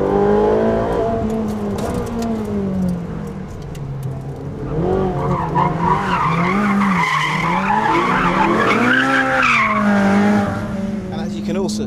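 A Ferrari 458 Speciale sports car brakes hard from speed, tyres squealing loudly in long wavering tones as the engine's pitch drops and rises again.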